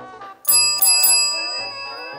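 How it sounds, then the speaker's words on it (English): A Shetland sheepdog rings a bell indoors, sounding three quick bright dings close together, then a couple of fainter rings as the tone decays. "Okay, we're practicing the bell."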